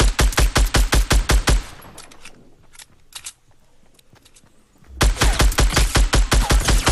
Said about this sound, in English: He decides to go for the grenade launcher.